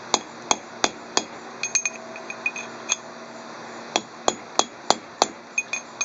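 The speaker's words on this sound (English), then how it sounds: "hammer it out very slowly" Sharp strikes from a 4-pound mallet land on a metal axle hub at an irregular, unhurried pace, each hit ringing briefly, close and clear with no talking.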